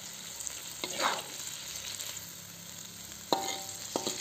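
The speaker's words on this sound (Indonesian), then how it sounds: "Tumis ikan asin jambal roti cabe hijau sederhana ala rumahan." Salted jambal roti fish stir-fried with green chili in a home kitchen, a quiet steady sizzle with a few soft clicks of the spatula scraping the pan.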